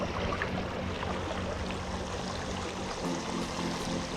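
A wild brown trout creek in Pennsylvania flows steadily, a dense, continuous rushing and babbling of water close by, with no voices.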